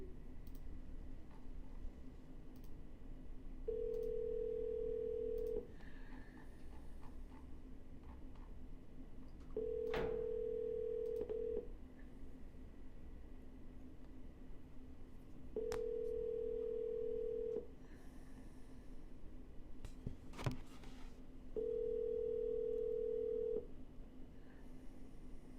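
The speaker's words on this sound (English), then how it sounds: "No answer. We're going to double dial." Repeated telephone ringback on a redialed call, four evenly spaced steady tones each lasting about two seconds over a low hum, with a couple of faint clicks between them.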